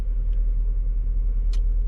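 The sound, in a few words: Ford Fusion SE 5-speed car running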